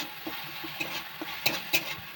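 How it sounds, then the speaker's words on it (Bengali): Coriander leaves stirred in hot oil in a wok: quick, light scrapes and taps of a spatula over a soft sizzle, close and irregular. "এবার এটাকে ধনে পাতাটাকে ভালো করে আমি নেড়ে নিই।"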